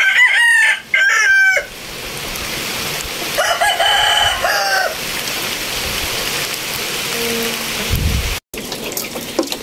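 Bearded Muff Bulik rooster crows several times in quick, loud, close calls, with steady rain pattering on a surface underneath throughout.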